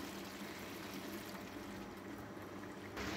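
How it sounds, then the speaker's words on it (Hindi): A cup of water poured into a pot of soaked daal cooked with chicken, a steady continuous pouring and trickling rush close by, with no talk. "हम अब 1 कप पानी डालेंगे।"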